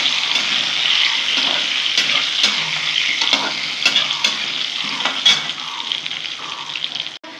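Potatoes frying in a pan with a little turmeric and being stirred, a steady close broadband sizzle with scattered scraping stir strokes throughout and no voices.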